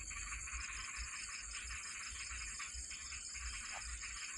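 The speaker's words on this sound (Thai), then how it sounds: "อันนี้เฮ้ยคือเสียงกบใกล้ๆนี่เขียดตะปาด" A tree frog calls close by in a steady, high-pitched trilling drone that continues without pause, faint in level over a low background rumble.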